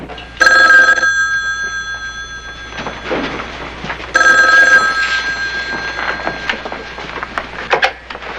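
An old-style telephone bell rings loudly in two bursts, each a harsh metallic trill lasting about two and a half seconds, separated by a pause, with faint background sounds before the call is answered.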